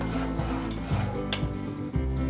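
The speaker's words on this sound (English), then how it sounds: "Now slowly add the egg and go on mixing it" Egg being stirred into hot and sour soup in a pot, with steady utensil scraping and light clinks against the pan, close and continuous over a low background hum.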